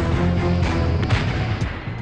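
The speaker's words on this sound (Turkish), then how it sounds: "Bir dizi patlama yerel halkta geniş çaplı bir paniğe sebep oluyor." Dense, continuous rumbling booms from a burning state ammunition factory in Kırıkkale, Turkey, in 1997, a loud, sustained roar of overlapping low blasts with no clear gaps between them.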